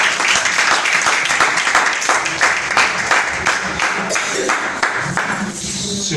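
Church congregation applauding the Lord during a Sunday service, a dense, steady wash of clapping from many hands filling the room throughout, fairly loud and close, with no talk over it.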